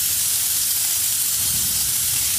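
Steam wand of an espresso machine hisses a steady, close jet of steam onto clothes to smooth wrinkles, a continuous broadband rush with a low rumble underneath and no talking.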